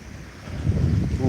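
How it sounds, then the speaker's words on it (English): Wind gusts across the microphone by a lake in low, rough buffeting bursts that grow stronger toward the end, with a hint of a voice. "sorry if the wind's picking up on y'all out here, it's a windy day outside the lake"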